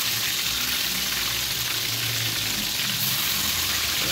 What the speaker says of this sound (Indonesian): Lalu ngambil kita goreng